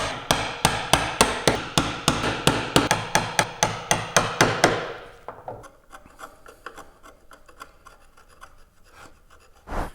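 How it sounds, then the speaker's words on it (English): Mallet striking a chisel into wood, chopping down to a shoulder line: a fast, steady series of sharp close knocks for about five seconds, then quieter scraping and light taps. "now let's just chisel down to this shoulder line"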